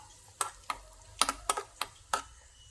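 A spoon scrapes and taps through crushed garlic, shallots and ginger in a pan, about seven sharp, close clicks in an uneven rhythm over a faint low hum, without speech.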